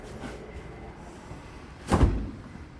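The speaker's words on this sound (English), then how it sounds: "Now going into this residential fridge with the double door" Double door of a Whirlpool residential fridge in a 2024 Thor 37DS motorhome kitchen swinging open, a soft thump with a brief seal release near the end against quiet room noise.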